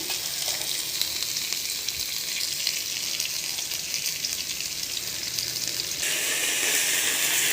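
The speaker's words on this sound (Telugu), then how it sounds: "ఇప్పుడు అదే ఆయిల్లో నల్లేరు బాగా ఫ్రై చేసుకోవాలండి" Nalleru (veldt grape) frying in oil for chutney, a steady close bubbling sizzle that swells a little louder near the end.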